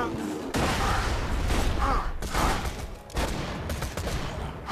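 A grenade goes off in Borderlands 2, bursting into a dense volley of loud blasts and crackling gunfire that rolls on for several seconds, with a brief drop before more bangs follow.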